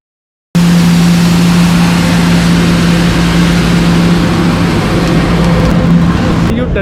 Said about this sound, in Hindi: ये मशीन आ गई है उनकी गाड़ी साफ़ करने वाली सड़कों को